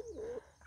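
A male pet pigeon gives a single close, low cooing hoot that swells and wavers for about half a second, followed by a brief soft rustle.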